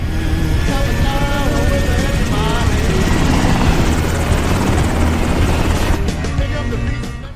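Loud helicopter rotors thump and roar continuously, the steady beating engine noise filling the scene before easing slightly near the end.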